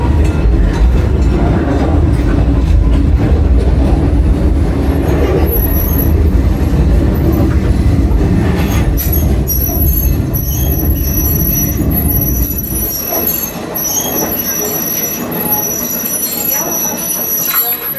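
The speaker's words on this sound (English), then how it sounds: "You're welcome to ride the train as many times as you like." A visitor train on the Cowichan Valley Railway at the BC Forest Discovery Centre rumbles along loud and close, its steady low rolling noise carrying high wheel squeals on the track, easing slightly toward the end.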